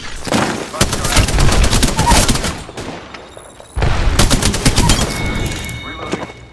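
An Arc Star grenade detonating during an Apex Legends match, set amid heavy rapid gunfire: long crackling bursts of shots, a pause, then a fresh loud volley with faint electronic tones and brief voice chatter.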